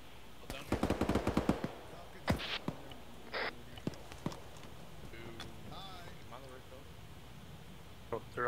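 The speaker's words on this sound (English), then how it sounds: "they're about to call on the gun run" Strafing gun-run fire in ArmA 3, a fast burst of rapid shots early on followed by scattered single cracks, with people talking over and between them.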